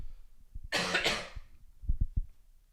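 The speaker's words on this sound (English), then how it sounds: "I coughed away from you if you were sitting next to me" A person coughs in one harsh burst lasting under a second, then gives a few short throat-clearing hacks, close to the microphone in a quiet room.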